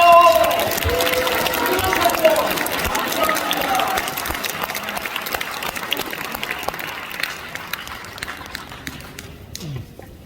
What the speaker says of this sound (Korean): 우리 다 같이 한번 일어서서 한번 박수 하십시다